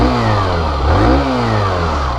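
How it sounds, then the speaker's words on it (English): Hero Glamour 125 BS6 motorcycle engine running close by, a smooth refined hum with a brief rise and fall in revs midway before settling back to a steady tone. "And let me turn on the engine."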